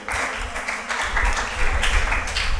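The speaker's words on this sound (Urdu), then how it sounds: "سب کے لیے تالیاں ہونی چاہیے." An audience at a Christian school theology talk breaks into steady, dense applause that fills the room for a few seconds with no pause.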